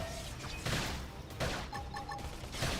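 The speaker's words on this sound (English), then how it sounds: "Lay down some cover fire." Gunfire in the video game Xenoblade Chronicles X during a battle, a dense volley of sharp bursts mixed with other game sounds and tones, steady and loud throughout.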